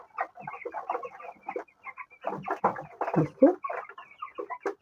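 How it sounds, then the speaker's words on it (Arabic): Young chicks on day nine of rearing crowd around their feed, peeping and clucking in a dense, busy chorus, with a voice speaking briefly over them. "الزحمه كده على الاكل، في فراخ بتاكل وفي فراخ لا"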